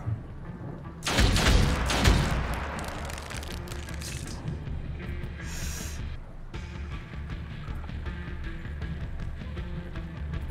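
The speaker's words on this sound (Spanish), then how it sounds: "Otro disparo." A single loud gunshot in the video game Othercide booms out with a brief echoing tail, followed by quieter background game ambience and a few soft effects.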